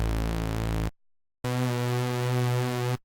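Two layered phase-modulated oscillator waveforms in the Serum synth sound as sustained buzzy, harmonically dense tones, first one held note, then a short gap and a second, cleaner held tone, with no talking.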